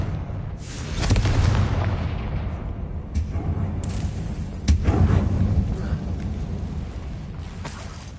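Booming blasts from a Confringo fire spell in Hogwarts Legacy, set in a dank mine, with a few heavy explosions punching through a loud, rumbling background.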